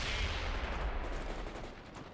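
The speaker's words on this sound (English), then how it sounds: "We're under fire!" Battlefield gunfire from the World in Conflict video game, a dense fusillade of distant crackling shots under a low rumble, fairly quiet and continuous with no voices.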